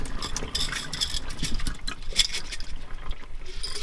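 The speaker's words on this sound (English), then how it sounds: "So now we're going to pour the water off." Well water is poured off, a continuous near splashing and trickling stream with bright bursts of liquid spattering, fairly loud and steady without speech.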